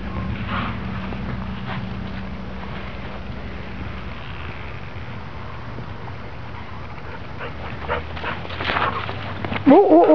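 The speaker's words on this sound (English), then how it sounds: "Oh, she barks." A dog barks and whimpers close by, with short yips over a low steady background hum and a louder burst at the end.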